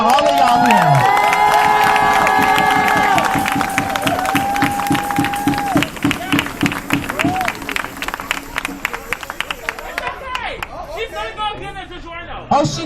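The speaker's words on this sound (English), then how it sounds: "Can we clap for 33 weeks?" An audience claps and cheers loudly with whoops and overlapping chatter, the noise tapering into scattered voices and laughter toward the end.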